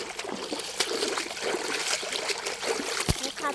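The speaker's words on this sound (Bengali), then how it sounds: "এখন আমরা এদিকে পা ধুবো" Water trickles and splashes softly as feet are washed at a large village pond beside rice fields, a gentle uneven dribbling with a few small splashes, faint and close.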